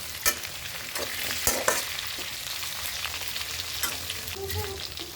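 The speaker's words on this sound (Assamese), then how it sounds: "এইখিনি ভাজি ভাজি ৰঙা হোৱাৰ পিছত মই ইয়াত এটা আলু এড কৰিলোঁ" Local chicken pieces with potato frying in a pan, a steady sizzle broken by sharp clacks and scrapes of stirring.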